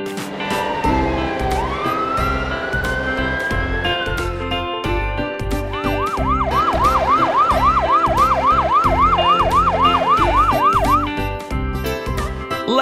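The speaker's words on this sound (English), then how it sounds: "Ambulance." Ambulance siren wailing steadily, first a long rising sweep, then rapid repeated up-down yelps over a dense musical backing, loud and continuous throughout.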